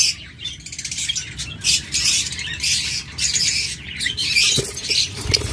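A pair of opaline pet birds chirping, lovebirds or cockatiels, rapid high twittering in overlapping bursts with a faint low background hum, no voices.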